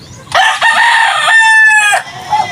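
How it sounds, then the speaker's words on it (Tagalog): A rooster crows loudly and close, a long strained call, with chickens clucking briefly before and after. "i-check ko muna yung mga manok ko iba."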